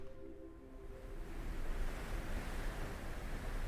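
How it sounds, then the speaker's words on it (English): A steady ocean wave recording plays for ASMR, a broad continuous wash of surf that swells slightly without breaking into distinct crashes, with no talk over it. "Wave noises. I like waves."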